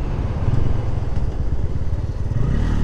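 A Bajaj Pulsar N160 motorcycle ridden in road mode, its engine droning steadily and loudly at close range with a low rumble throughout, no talking.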